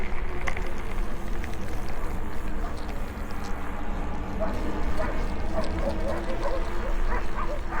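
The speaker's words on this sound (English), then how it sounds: "You hear the barking? That's the Quartzsite dog park." Several dogs bark and yip at the Quartzsite dog park, sounding off at a distance in scattered bursts over a steady outdoor background while a person talks nearby.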